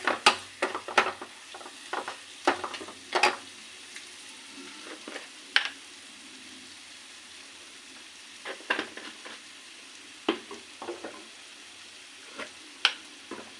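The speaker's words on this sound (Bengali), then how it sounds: "এবার দেব ঘি এক ঘি দিতে হবে" Ghee sizzling and spattering in a pan while chicken roast cooks, with scattered crackles and stirring clatters coming in short bursts, close and moderately loud, quieter stretches of gentle frying between them and no voices.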